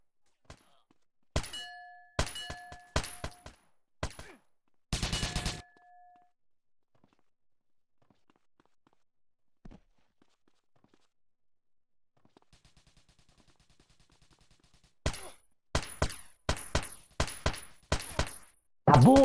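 Video-game gunfire, including shotgun blasts, comes in loud clustered bursts of sharp shots with metallic rings, then a long near-silent lull with faint clicks, before another rapid volley breaks out.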